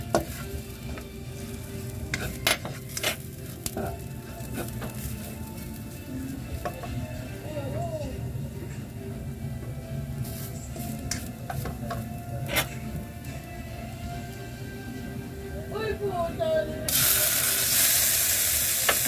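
Dried fish, tuyo and daing, frying in a pan with steady crackling sizzle and occasional stirring scrapes, a louder, harsher hiss rising near the end.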